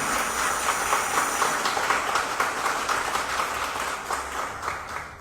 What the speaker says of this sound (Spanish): Vamos a dar un fuerte aplauso de bienvenida